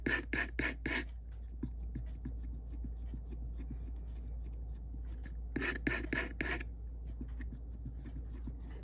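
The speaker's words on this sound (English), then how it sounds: "Wiping off my palette knife, and I'm going to lighten it up a little bit more." A palette knife scrapes and wipes repeatedly while oil paint is mixed, with two clusters of four quick, bright rasping strokes separated by softer rubbing, close and alone with no talking.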